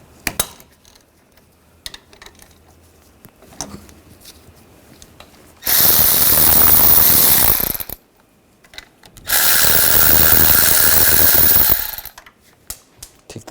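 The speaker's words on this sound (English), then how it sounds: "We're going to use a 19mm socket to take these bolts off." A power tool with a 19mm socket removes the front brake caliper bolts on a 2014-2018 GMC Sierra 1500 in two loud, sustained bursts of a couple of seconds each, with quieter clinks and handling noises between them.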